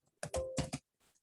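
Quick clicks on a computer keyboard while typing router configuration commands for a GRE VPN tunnel, a short cluster of close keystrokes followed by a few fainter taps.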